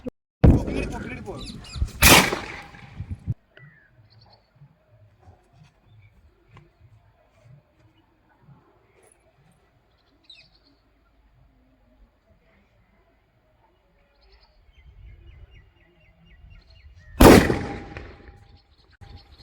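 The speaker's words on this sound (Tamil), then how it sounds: "அஞ்சு இஞ்சு ஜல்லிக்கட்டு வெடி ஒரு அஞ்சு பீஸ் இருந்துச்சு" Five-inch Jallikattu firecrackers bursting outdoors: a loud, crackling blast at the start, a quiet stretch with faint rustling, then a second sharp explosion near the end.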